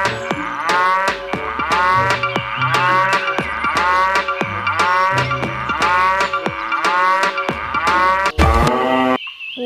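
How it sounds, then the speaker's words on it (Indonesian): A cow moos repeatedly in a steady series of loud, close calls, one after another with short pauses, with no talk. "Ada induk sapi."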